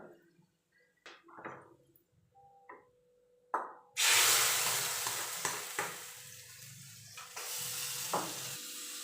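Sizzling tempering poured into a Vatta fish curry: a few quiet clinks of utensils, then a sudden loud, hissing sizzle that bursts up close and keeps crackling with small stirring knocks, with no talking.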